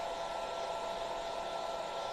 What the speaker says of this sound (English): I'll just hit it with the hairdryer